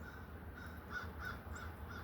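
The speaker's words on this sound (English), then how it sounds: "this is the second group of, I'm going to say these are crows" A flock of crows passes overhead, giving a run of short, evenly spaced caws at moderate distance against a low outdoor rumble.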